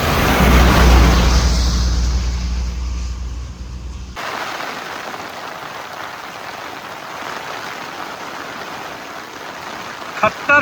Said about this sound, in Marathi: खतरनाक पाऊस आलाय